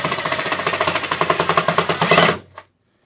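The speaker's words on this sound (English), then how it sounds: "Once again, using the 1 1/4 inch long number 6 wood screws with flat heads, I am going to screw this in." A power driver sinks a 1 1/4 inch number 6 flat-head wood screw into wood with a fast, steady ratcheting buzz lasting about two seconds. It stops abruptly and is followed by a single faint click.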